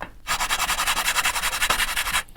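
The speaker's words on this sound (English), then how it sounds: "Now I just want to sort of square up these sides on with some sandpaper and something really flat." Steady back-and-forth sanding of a cut plate piece for a guitar effects pedal, rubbed on sandpaper stuck to a flat sheet of glass; about fifteen quick, even rasping strokes, close and fairly loud, with no talking.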